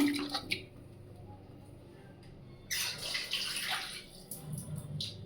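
Water splashes and pours in a short burst midway, trickling and sloshing into a pressure cooker holding potatoes close by, after a few soft clinks.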